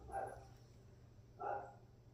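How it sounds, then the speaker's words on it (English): Pet dogs barking indoors, two faint separate barks spaced about a second apart against a quiet room. "Sorry about my dogs barking."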